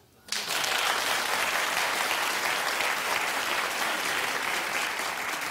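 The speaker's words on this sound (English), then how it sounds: "Clap if you're sad." Studio audience applause on a daytime talk show, bursting in abruptly after a brief quiet moment and then holding as a loud, even wash of many hands clapping.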